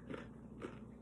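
Close, crisp crunching of a toasted sesame and peanut snack, two bites about half a second apart, fairly quiet and with no talk.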